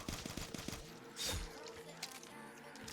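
Gunfire in the Call of Duty zombies map Der Untoten: a quick run of close, sharp shots early on, then a louder burst, over game ambience with a voice talking quietly underneath.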